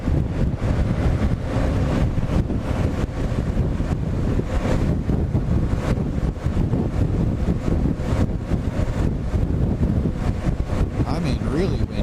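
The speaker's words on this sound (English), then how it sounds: "I mean, really windy." Strong wind buffets the microphone on a high bridge over water while riding a KLR650 motorcycle, a loud, continuous roaring rumble throughout.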